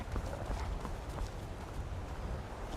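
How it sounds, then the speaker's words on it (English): Horse hooves clip-clop in the video game Skyrim, a dense, continuous patter of muffled thuds close by over a loud, rumbling background. "Is that a horse?"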